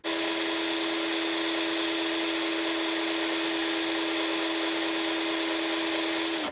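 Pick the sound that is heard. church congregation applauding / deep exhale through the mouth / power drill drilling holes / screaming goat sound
power drill drilling holes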